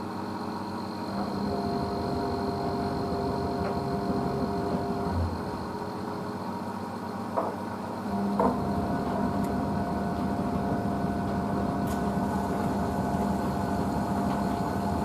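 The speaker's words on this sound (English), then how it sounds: "this machine just drains and fill though, because because on the rinses it drains and fill at the same time anyway" A Blomberg Greenplus washing machine runs with a steady low hum and a tonal whine as it drains and fills. It comes from nearby, grows slightly louder partway through, and carries occasional faint clicks, with no voices.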